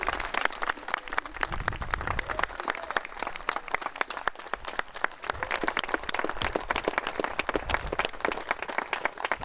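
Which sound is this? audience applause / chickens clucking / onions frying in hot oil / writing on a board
audience applause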